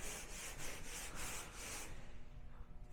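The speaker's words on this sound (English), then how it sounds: "So Phil is now sanding the work that we have" Rhythmic scratchy rubbing of sanding strokes on drywall joint compound, about five even back-and-forth passes, close and steady, then trailing off into a softer scrape.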